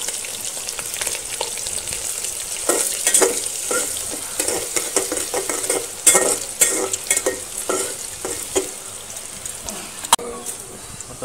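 Onion and bay leaves frying with masala in hot oil, a steady close sizzle with frequent scraping stirs and clinks of a spoon against the pan throughout.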